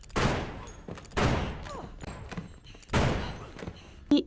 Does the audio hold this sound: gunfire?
yes